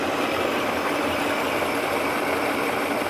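A metal lathe turns at a slowed 322 RPM while machining a carriage stop, giving a steady, even motor hum with a broad whirring wash that holds constant throughout, with no talking.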